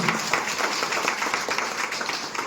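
An audience at a business seminar breaks into a steady patter of clapping that holds at an even, moderate level throughout, dense and close.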